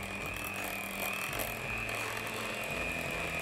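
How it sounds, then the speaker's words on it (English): An electric mixer blending pumpkin bread batter, a steady close mechanical whir with a ratcheting, gear-like texture and a constant high whine, running without pause and with no talk. "Now we'll blend this a little bit more. Make sure we get all those flavors together."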